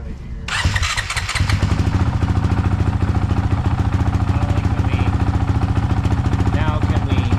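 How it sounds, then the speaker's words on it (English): A Honda CRF450RL motorcycle engine cranks, catches abruptly and settles into a loud, close, rapid, even idle thump that runs steadily to the end. "You want to start the bike."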